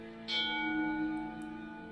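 A church bell rings out in the video game The Lost Crown, a single clear strike with a long humming resonant decay, heard alone over quiet background.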